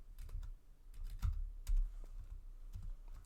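Computer keyboard typing a command at a desk, a quick irregular run of soft key clicks and taps, close and fairly quiet, with no voice over it.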